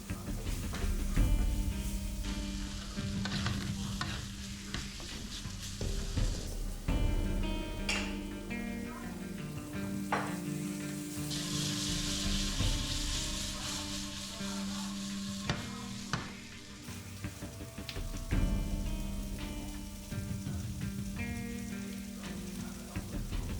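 Pork and Hatch green chili frying in a very hot pan on a stovetop, a steady dense sizzle with stirring clatter and utensil scrapes throughout, fairly close.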